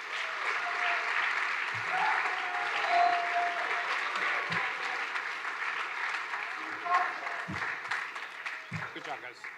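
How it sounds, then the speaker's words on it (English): Audience at a school academic awards ceremony gives a sustained round of applause, steady and fairly loud throughout, with a few low thumps and faint voices underneath. "Let's give them one more round of applause"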